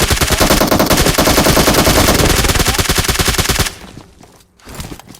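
Automatic gunfire in the mobile battle royale game PUBG Mobile, a loud, rapid, continuous burst of shots for several seconds that cuts off abruptly, leaving quieter game ambience and a faint thump.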